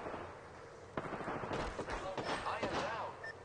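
Gunfire in the video game Apex Legends crackles in a rapid irregular burst of shots mixed with game sounds and a voice talking over it.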